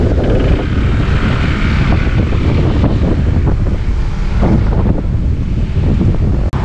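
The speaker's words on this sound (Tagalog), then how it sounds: "Sarap ng hangin." Steady, loud wind buffeting the microphone throughout, a constant roaring rush with no voices.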